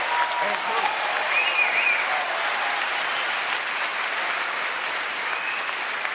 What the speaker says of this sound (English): People clapped